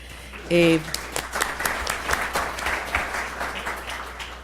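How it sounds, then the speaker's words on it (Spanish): Audience at a panel discussion on concentrated markets clapping after a panelist is thanked, a brief loud tone near the start, then sustained clapping with voices murmuring underneath. "Un aplauso, por favor."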